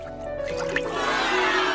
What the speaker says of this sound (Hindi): वाह, पानी